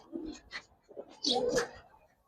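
Silver-coloured and army pigeons cooing in a loft, with a few soft, low throaty coos followed by a fuller, louder coo, close by and with no voices.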